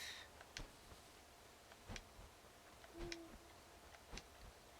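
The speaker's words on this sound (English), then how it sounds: "can hear an owl going off." Owl hooting in the video game Death's Door, a single faint low hoot heard once mid-clip, set against steady ticking clicks and quiet game ambience.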